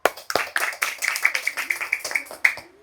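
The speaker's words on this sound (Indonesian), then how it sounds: "Tepuk tangan." Hands clap in a quick, even rhythm, roughly five sharp claps per second, during a school physical education gymnastics lesson on the forward roll, with voices mixed in.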